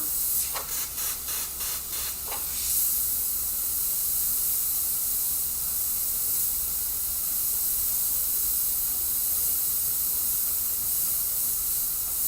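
An airbrush sprays paint onto a Joker-themed panel, first in a few quick sputtering bursts, then settling into a steady, close, continuous hiss.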